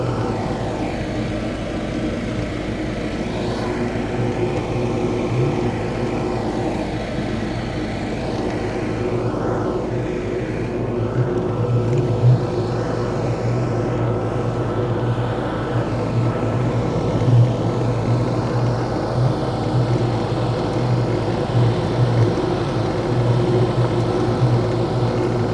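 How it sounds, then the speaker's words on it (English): A vintage Maytag washer running off a generator, a steady low mechanical drone with a constant engine-like hum and faint rhythmic churning that stays even and fairly loud throughout. "So we're going to go ahead and let this run off the generator for about 20 minutes"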